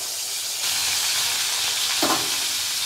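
Pointed gourd (potol) pieces frying in a pan, nearly done: a steady, close sizzle and hiss of hot oil runs throughout, with a brief soft clink or stir near the end and no talking.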